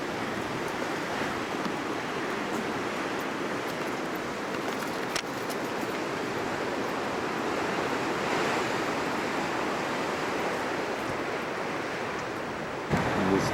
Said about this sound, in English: Breakers coming in.